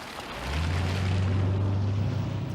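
A huge 6.75-litre V8 car engine's deep, low rumble swells as the throttle opens, then holds as a heavy, steady drone.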